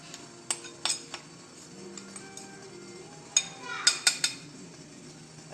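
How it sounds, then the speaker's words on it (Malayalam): A spoon stirs cocoa and milk powder into melted sugar in a pot, giving sparse, light metallic clinks and scrapes that come in small clusters against a quiet background. "എന്നിട്ട് നമുക്ക് നന്നായിട്ടൊന്ന് ഇളക്കി കൊടുക്കാം"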